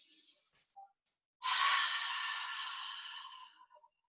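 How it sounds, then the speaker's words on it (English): A hot, audible exhale through the mouth during a qigong breathing class, a long breathy whoosh lasting about two seconds that fades out. A shorter, softer breath sound comes before it, with a brief gap of silence in between. "Inhale through the mouth, hot, audible exhale."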